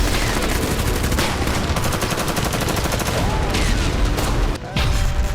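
Dense, continuous gunfire rattles through a fierce battle near the Tishrin Dam in Syria, with loud overlapping bursts and a brief drop near the end.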